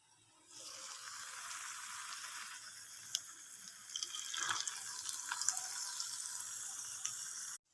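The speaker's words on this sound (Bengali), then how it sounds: "দেখো আমি বড়াগুলোকে ভেজে নিচ্ছি।" Poppy seed fritters (posto bora) frying gently in oil over a low flame, giving a steady, soft hiss and bubbling sizzle with a few small pops, fairly close and continuous without talk.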